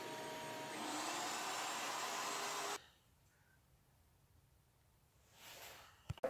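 Router cutting a tenon on a cigar box ukulele neck in a vertical router jig, a loud high whine for a few seconds that cuts off sharply, then near quiet with a faint rising hum and a couple of clicks.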